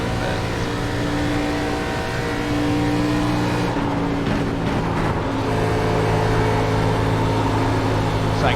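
A race car engine in the iRacing sim drones steadily at high revs, its pitch dipping and climbing slightly through a corner before holding a constant roar, with no speech over it.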